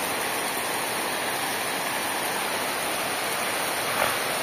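Heavy rain pours down in a steady, dense hiss that stays close and unbroken throughout, with one faint brief knock near the end and no voices.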